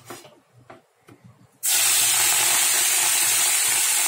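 Prawns dropped into hot mustard oil in a kitchen pan set off a sudden, loud, steady sizzling hiss that continues without a break, after a few quiet seconds with soft background sounds.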